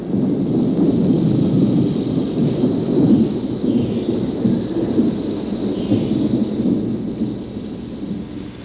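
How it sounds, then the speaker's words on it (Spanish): A sudden thunderstorm in the Borneo rainforest fills the air with steady, loud rain and rolling thunder rumbling continuously, with no voices present. "una súbita tormenta pone fin a la siesta"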